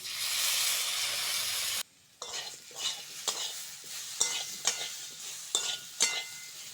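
Turmeric, chilli and salt hit fried papaya in a hot pan, a sharp loud sizzle dropping briefly to near silence, then stirring clinks and scrapes over a steady frying hiss.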